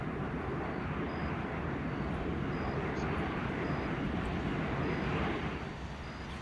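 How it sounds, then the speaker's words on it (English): A jet aircraft engine in the Arma 3 video game roars as a dense, steady broadband rumble with a hiss on top, holding at constant loudness before easing slightly at the end. "It's Rob trying to learn the jet."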